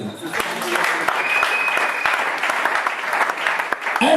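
A church congregation applauds to acclaim the Lord, giving a steady, loud burst of clapping that lasts throughout, with voices mixed in underneath.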